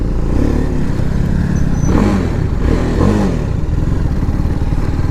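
A TVS Apache RR 310 BS6 motorcycle engine revs loud and close, with a rough, throaty drone that swells through two distinct throttle blips over a constant roar.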